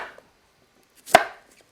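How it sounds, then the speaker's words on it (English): A knife chops radishes on a cutting board: one sharp, close thunk after a soft lead-in sound, with quiet before and after. "I'm going to just chop these up into bite-sized pieces."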